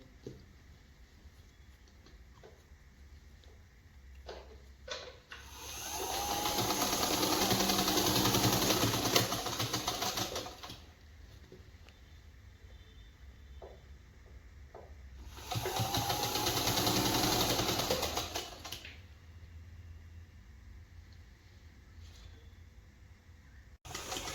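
A sewing machine stitches a ruffle sleeve in two steady bursts of several seconds each, with quiet pauses and small handling clicks between the runs.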